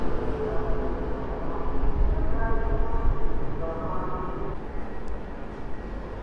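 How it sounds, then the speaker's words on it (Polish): Polish EP07 electric locomotive pulling away at Sosnowiec Główny station, a steady mid-loud rumble of wheels and traction hum with faint tonal whines rising across the run, heard close and continuous. "Bardzo ładnie wystartowała epoka."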